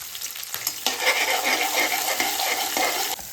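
Chopped onion sautéing in a pan with curry leaves and green chillies, a close, continuous sizzle with faint stirring scrapes, moderately loud with no talking.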